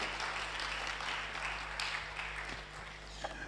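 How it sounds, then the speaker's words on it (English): Applause at a conference opening for Senator Chris Anyanwu, soft and fairly distant steady clapping over a low electrical hum, with no clear talk. "please, one more time, round of applause for Senator Chris Anyanwu"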